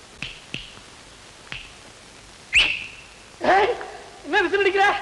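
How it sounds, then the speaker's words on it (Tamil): A man whistles in a comedy film scene after a few sharp finger snaps, the whistle coming as a short bright note and then a wavering, warbling call near the end, close and clear with room quiet between. "என்ன விசில் அடிக்கிற?"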